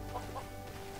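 A couple of short chicken clucks in LEGO Worlds, close and clear over a low ambient game hum.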